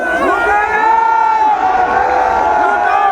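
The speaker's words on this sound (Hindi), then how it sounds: "आप दर्शक अपनी उपस्थिति हूटिंग के साथ दर्ज कराएं" Audience crowd cheering and hooting for the Uttarakhand chief minister at a packed public cultural fair in Noida, a loud continuous roar of whoops and shouts with babbling voices throughout.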